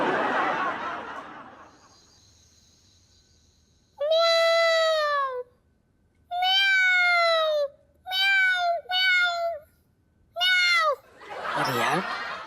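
A person imitates a cat with five drawn-out, whiny meows in a row, loud and close, separated by short pauses, with breathy voice noise before and after.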